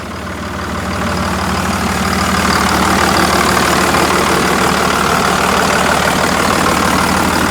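A Cummins 6.4 diesel truck engine idles with its exhaust not hooked up, a loud, steady, raw knocking rumble that swells in the first second and then holds evenly, with no voices.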